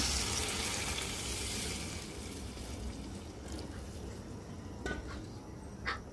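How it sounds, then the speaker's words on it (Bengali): Broth poured into a hot pan of curry, giving a steady broadband sizzle and splashing that eases off after a couple of seconds, with a few soft clinks near the end. "এখন ঝোল দিয়ে দিব।"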